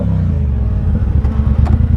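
A motorcycle or car engine revs on a sunny street outside a tunnel, a loud, steady low rumble swelling into a couple of brief throttle blips toward the end.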